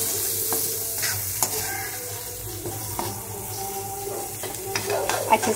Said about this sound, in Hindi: अच्छे से मिक्स करते हैं